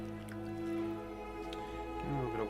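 Water splashes and squishes inside a wet clay pot spinning on a pottery wheel, with faint drips and wet rubbing over a low steady hum.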